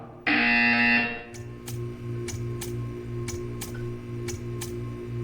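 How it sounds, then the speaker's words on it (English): A bright electronic buzzer sounds for about a second in Portal 2, followed by a steady run of sharp ticks over a low droning background. "You will hear a buzzer. When you hear the buzzer, stare at the art."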